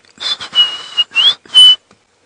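A robin sings on an African safari drive in the morning, giving a series of clear, high whistled phrases with short pauses, close and alone.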